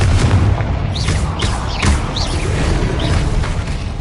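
Confringo spell explosions in Hogwarts Legacy, a series of loud booming blasts and whooshing bursts over dense rumbling combat noise, close and forceful.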